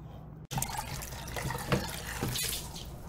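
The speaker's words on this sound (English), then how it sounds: "So we're gonna pan this out and get to the gold." Gold concentrates and black sand swirled in a pan of water, giving a steady close sloshing and trickling wash with a few louder splashes.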